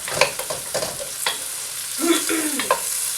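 Chicken yakisoba sizzles in a hot pan with brief scraping and clattering as it is stirred, the frying hiss continuous underneath.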